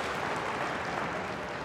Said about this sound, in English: You can just hear the crowd getting into that